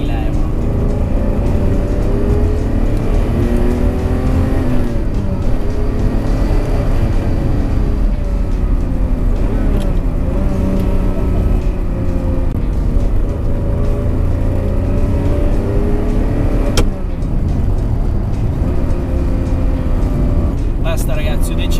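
A 1980s Ferrari Testarossa rumbles at speed from inside the cabin, its engine a loud, steady low drone that rises and falls slightly with the throttle, under continuous talking by a driver.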